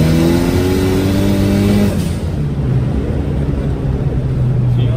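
Nissan SR20DET engine in a Langley revving loudly during a pull, a rising engine note that drops off abruptly around two seconds in before settling into a lower steady drone.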